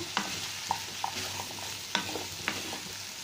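Small shallots frying in oil in a pan for a potato and shallot roast, a steady sizzle broken by sharp clicks of a spoon stirring and tapping against the pan.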